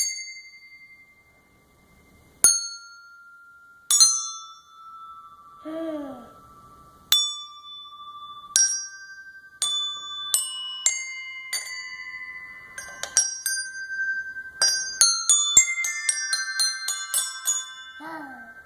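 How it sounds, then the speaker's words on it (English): Small Hanukkah bells struck one at a time while a toy spins, giving bright, ringing dings that start sparse with long decays and then come faster and closer together toward the end; no talking. "And then as it spins, hit the bells one at a time."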